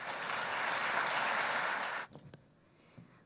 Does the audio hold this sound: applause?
yes